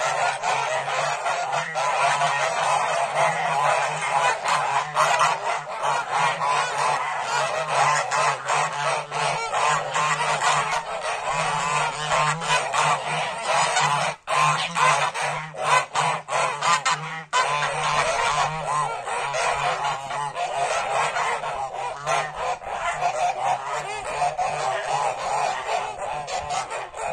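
A dense, continuous chorus of large domestic geese honking loudly and nearby, many birds calling over one another without pause.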